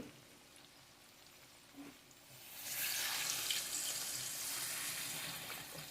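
A low background hum, then tamarind water begins pouring steadily into a pan of brinjal curry about halfway through, a continuous splashing rush that lasts to the end.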